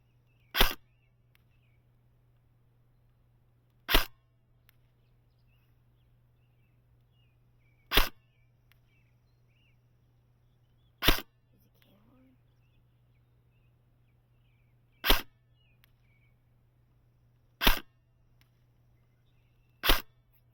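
A Laylax Prometheus airsoft rifle with a 6.03 inner barrel fires 0.32 gram BBs in seven sharp, isolated shots spaced a few seconds apart. Each crack is loud against a quiet background with a faint steady hum.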